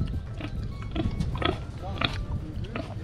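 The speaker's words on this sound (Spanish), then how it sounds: "Y que tiene otro chancho, ¿eh?" A pig grunts and chews close by in a backyard pen at a rural home, with rough, irregular snorts over low rumbling noise and voices nearby.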